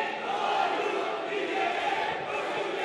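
A crowd at a Republican People's Party (CHP) congress applauds and cheers, a loud continuous roar of voices and clapping that holds steady throughout.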